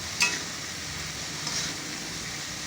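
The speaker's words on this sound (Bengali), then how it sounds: "এবারটা ভালো করে ফ্রাই করে নেব" Bitter gourd greens stalks frying in a pan with salt and turmeric, a steady soft sizzle running throughout with a brief clink near the start, no talking.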